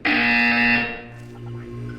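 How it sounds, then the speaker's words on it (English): A loud, harsh electronic buzzer blares for under a second, then cuts off, leaving a low hum and faint room noise. "You will hear a buzzer."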